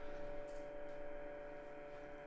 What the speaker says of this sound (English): I'll just record this video where my fridge is having a meltdown.